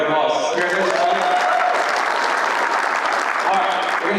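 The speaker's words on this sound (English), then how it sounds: "give this guy a round of applause" Audience at a lawn care business event applauds loudly and steadily for about four seconds, a dense wash of clapping with a faint voice or cheer near the start.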